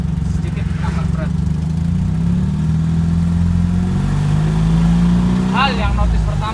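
An antique Honda N360 kei car engine hums steadily while cruising, a continuous mid-pitched drone with slight pitch shifts, and someone talks over it at times.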